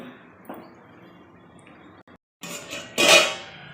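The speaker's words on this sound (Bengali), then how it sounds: "আমি আবার ঢাকাটা দিয়ে দিচ্ছি" Metal lid set on a pot of chicken curry, soft clinks and a bubbling simmer followed by a louder clatter and scrape of the lid near the end.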